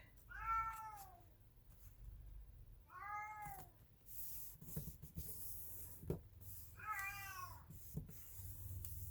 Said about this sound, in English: He has the loudest voice of any cat I've ever heard.